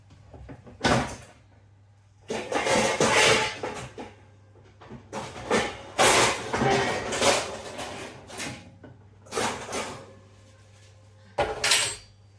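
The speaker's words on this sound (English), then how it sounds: "Just going to dip down and get the baking sheet out." A series of loud metallic clatters and bangs as a baking sheet is pulled out of a cupboard, separated by brief quiet pauses.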